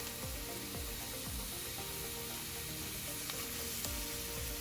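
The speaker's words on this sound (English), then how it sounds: "I'm going to mix it well and stir fry and soften the onions for about 5 minutes" Chopped onion fries in olive oil in a pan with a dense, steady sizzle. Soft scraping stirs recur at intervals, and no one speaks.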